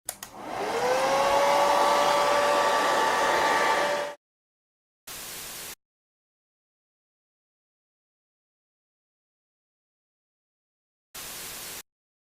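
A heat gun blows with a steady, loud whoosh for about four seconds while warming a vinyl iPhone 6 skin, then cuts off, followed by two short bursts later with silence between.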